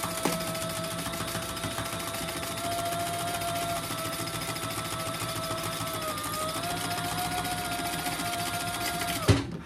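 A sewing machine stitching handbag pieces together runs in one steady, even whir for several seconds, then stops abruptly near the end, with no voices over it.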